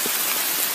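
Torrential rain falling in woodland near Lough Isle of Innisfree, a steady dense hiss of downpour with no break, fairly loud and continuous throughout.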